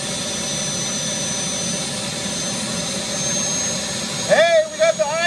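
A Starwood model turbine engine idles with a steady, loud jet whine and roar, close and continuous, and an excited voice shouts over it near the end.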